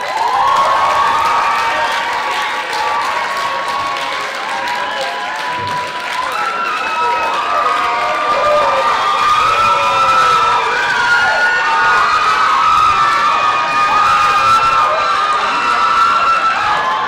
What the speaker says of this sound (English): Let's give a round of applause while they come up.